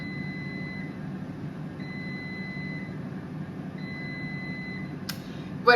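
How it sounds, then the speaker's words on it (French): Cosori dual-basket 8.5 L air fryer signalling the end of cooking with three evenly spaced electronic beeps, clear over a steady low room hum. "la causerie air fryer sonne 3 fois. Il y a 3 petits bips."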